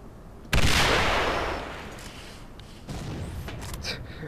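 A single loud rocket-propelled grenade blast in a video game, with a sharp onset and a long decaying roar, followed by quieter game rumble and scattered clatter.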